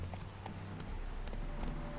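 Horse hooves in The Witcher 3 video game, a steady clip-clop of a trotting mount over a constant noisy outdoor game ambience, moderately close.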